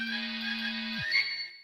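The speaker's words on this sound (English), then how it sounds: "I nearly jump out of my skin as my phone goes off." Phone ringtone in a visual novel game, a short electronic tone with a steady low note that drops off, then a brighter chime, fairly quiet and heard alone.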